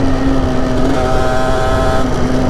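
Motorcycle engine while riding, a loud, steady buzzing drone with a constant pitch, heard alone for a couple of seconds.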